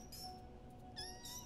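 A cat meows quietly and close by, two distinct tonal cries, one early and a longer one near the end, over a soft low background hum.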